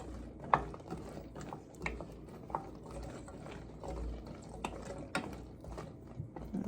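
Fresh cranberry sauce stirred in a pan over medium heat, with faint quiet scrapes, soft bubbling and occasional light knocks of the spoon against the pan.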